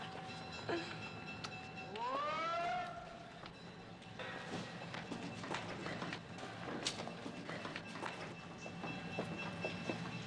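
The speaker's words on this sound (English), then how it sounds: "Last call for the Southern Pacific Owl train number 57" A Southern Pacific passenger train, the Owl number 57, rumbles steadily with clattering, a long rising-and-falling whistle or horn sounding briefly near the start, amid general station or rail noise.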